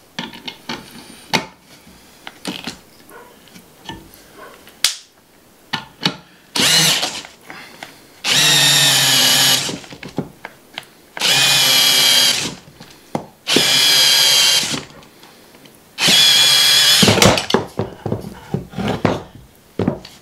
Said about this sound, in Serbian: ovo je bušilica sa 45 N, a ovo je bušilica, točnije impaktica, sa 140 N